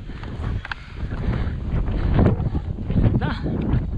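Strong wind on Lanawan Ridge buffets the microphone with a low, rumbling roar that gusts and swells, constant throughout with no voices.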